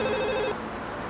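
A telephone rings in a steady electronic trill for about half a second, then stops, leaving a quiet room with a faint tone near the end.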